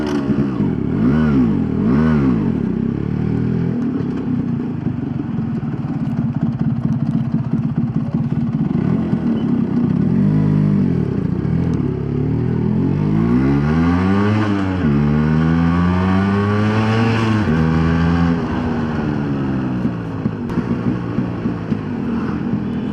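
A Yamaha RX 135 two-stroke motorcycle being ridden, its loud buzzing engine close by, rising and falling in pitch through repeated throttle changes and gear shifts over a long continuous stretch.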